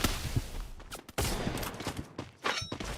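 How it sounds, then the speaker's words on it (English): Gunfire in the battle-royale game Free Fire during a competitive scrim match: a few sharp bursts of shots with a gap near the middle, loud and close, with no talk over them. "Fabs with an OP headshot."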